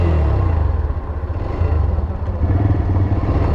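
A TVS Raider 125 motorcycle engine has just started and idles with a loud, close, steady thumping rumble, rising slightly partway through, heard alone for a few seconds.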